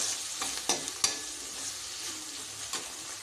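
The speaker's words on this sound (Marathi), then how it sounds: "टमाटर सुद्धा छान असा थोडा शिजू देऊया" Tomato cooking in a frying pan for an Indian-style veg thali, with a steady soft sizzle and a few sharp stirring clicks and scrapes, close and without talk.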